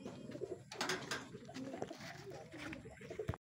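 Racing pigeons coo and flutter nearby as birds arrive at the loft after training, amid a busy, bird-filled background, with soft rustling and wingbeats.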